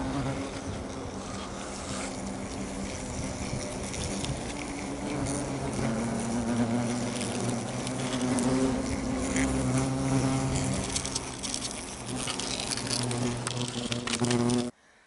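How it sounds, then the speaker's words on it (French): Asian hornets buzz inside a pipe: a steady, dense, close droning hum that keeps going without a break, then stops abruptly at the end. "le frelon asiatique, il trouve toujours des solutions pour s'installer, à l'abri du vent, à l'abri de la pluie"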